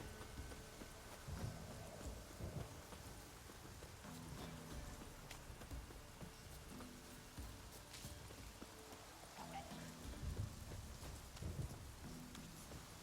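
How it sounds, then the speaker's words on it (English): Steady rain with low rumbling thunder during a storm in the video game Witcher 3, with horse hooves clopping and some faint game music underneath; no one speaks. "A storm, damn it."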